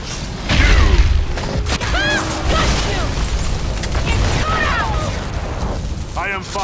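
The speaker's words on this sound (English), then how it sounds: "Cannon firing!" Booming cannon blasts in the video game Evolve Stage 2, several heavy bursts over a dense, noisy battle with shouting voices and whooshing effects throughout.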